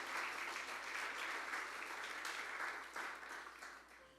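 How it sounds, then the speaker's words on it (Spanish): A church congregation gives a sustained round of applause for Christ, a dense, even clatter of many hands that holds steady, then thins and fades toward the end. "Dale un fuerte aplauso a Cristo."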